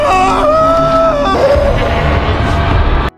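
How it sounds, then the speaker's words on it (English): A man screeches in pain, loud and close, his voice wavering and breaking for about three seconds before stopping suddenly. "Ron screeches in pain"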